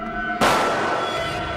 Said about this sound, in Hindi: गोली चलने की आवाज।